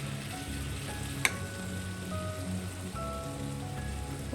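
Brinjal (eggplant) sizzling and crackling steadily in a hot pan as it is stirred, a close, continuous frying hiss with a single sharp clink partway through.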